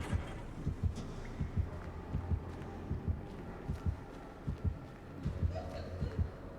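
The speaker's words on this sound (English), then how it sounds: "all I can hear is heartbeat and footsteps" A video game heartbeat throbs steadily with low, regular double thumps, repeated through the whole stretch over a faint humming background, with no speech.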